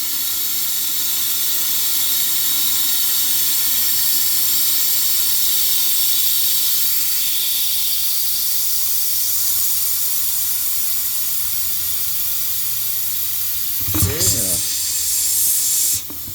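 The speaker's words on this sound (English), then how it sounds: "Put the air hose on." Compressed air from a shop hose hisses steadily through a coolant vacuum refill kit on a Lincoln Corsair, a loud constant rushing that ends in a sharper burst of clatter near the end.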